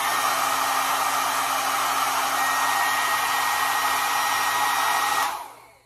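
A hair dryer blows steadily on its cool setting, a loud, even whoosh that holds for about five seconds and then cuts off as it is switched off.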